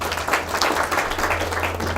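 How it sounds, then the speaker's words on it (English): Audience applause at the official launch of the ICAN continuous glucose monitor, a steady, dense patter of many hands clapping throughout, moderately loud with no talk over it. "Please clap for him again."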